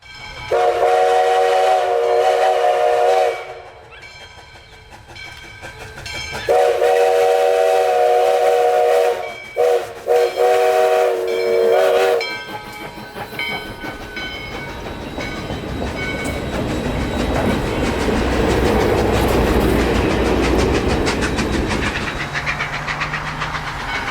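Loud whistle blasts from a U.S. Sugar steam locomotive in long repeated bursts, then the heavy train rumbles close by with clanking and rolling noise building steadily.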